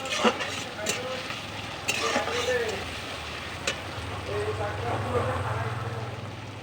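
Onions with tomatoes and bay leaves fry in a pan, giving a low, steady sizzle with sharp scraping clicks as a spoon stirs them, while a voice talks over the cooking.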